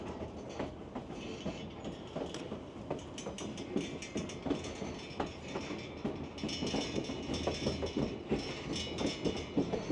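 An Alaska Railroad train moves quickly on the tracks with a rhythmic clickety-clack of wheels over rail joints and a soft, steady rumble underneath.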